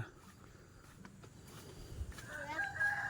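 Chickens in an island village yard, with ducks also kept there, cluck softly and a rooster crows toward the end, all faint and somewhat distant against quiet outdoor background.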